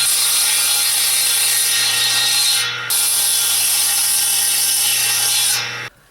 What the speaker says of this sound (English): I finished making my cuts with a jigsaw